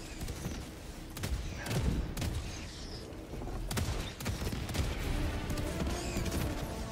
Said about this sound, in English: My auto cannon takes them out.